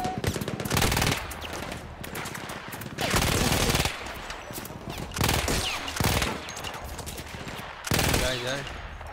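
A double-barrelled gun in Battlefield 1 fires long, loud, sustained automatic bursts at close range, with four or five extended volleys separated by brief lulls of background battle noise.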